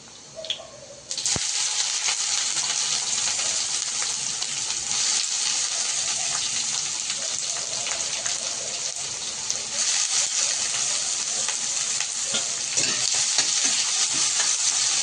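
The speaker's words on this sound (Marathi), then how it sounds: "कांदा चांगला फ्राय करून घ्यायचा" Two cut onions dropped into hot oil with curry leaves in a pan, bursting into a loud, continuous close sizzle after a quieter opening, with faint stirring scrapes through the frying.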